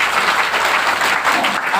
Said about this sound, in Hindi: उनके लिए जबरदस्त ताली होना चाहिए